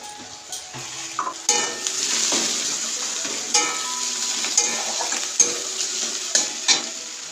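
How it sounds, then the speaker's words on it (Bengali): Browned onion with freshly added ginger fries in oil as a spoon stirs and clinks against the pan, a moderate sizzle punctuated by repeated sharp metallic taps and scrapes, no talking. "দিয়ে বেশ খানিকক্ষণ ধরে নাড়াচাড়া করতে হবে যাতে তেলে ভালো করে মশলাগুলো গলে যায়"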